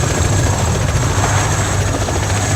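Helicopter in the video game ArmA: Cold War Rearmed, a loud, steady rotor thrum and engine whine filling the whole stretch without a break.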